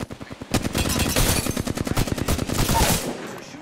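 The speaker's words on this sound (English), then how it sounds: "They're shooting at me." Rapid automatic gunfire in the battle royale video game Apex Legends, a loud, sustained stream of shots fired in quick rhythmic bursts for about two and a half seconds before cutting off.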